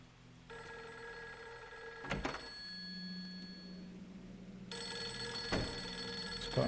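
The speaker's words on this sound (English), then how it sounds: "The phone's ringing now." An old telephone rings in the Fatal Frame 3 horror game on PS2, two long bell rings separated by a pause, loud and close over a low ambient drone, with no talking.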